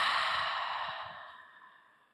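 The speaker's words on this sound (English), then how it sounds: "take a normal breath in. Normal breath out." A normal breath out during a beginner yoga session, one long soft exhale like a sigh, close and breathy, fading steadily over about two seconds with no talk.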